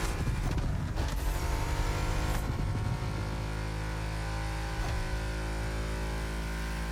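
A Ford GT roars through corners in the racing game The Crew Motorfest, its engine note rising and dipping with quick shifts early on, then settling into a sustained, loud drone.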